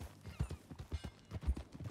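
Horse hooves clip-clop at a steady walking pace in Red Dead Redemption 2, a quiet, even series of soft thuds alone without talk.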